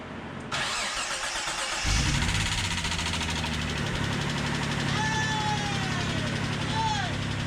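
Mitsubishi 3000GT VR-4 engine cranking and catching on its first startup after repairs, then settling into a steady, close rumbling idle, with a voice speaking over it.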